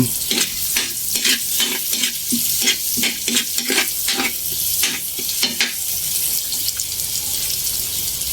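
Garlic sautéing in a pan for chicken pastel: a busy sizzle broken by a rapid run of sharp utensil scrapes and clacks against the pan, easing into a steadier fry toward the end.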